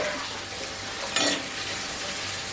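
Homemade potato chips frying in oil, a continuous soft sizzle with one brief louder stir or scrape partway through, heard close with no voices.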